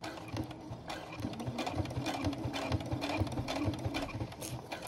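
Sewing machine stitching Velcro and nylon webbing for costume armour, giving a steady, fast mechanical chatter that runs continuously at close range without pauses.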